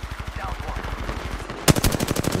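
Automatic gunfire from a weapon in the video game Apex Legends rattles in a steady rapid stream, then turns into louder, punchier shots partway through, close and dominant.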